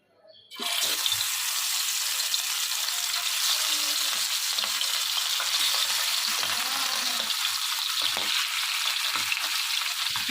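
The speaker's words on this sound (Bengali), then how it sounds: "তেলটা তো গরম হয়ে এসেছে, আমি এখন মাছটাকে ছেড়ে দিচ্ছি" After a brief silence, a loud sizzle erupts as fish hits hot oil in a kadai, then frying crackles and hisses steadily and continuously, close by.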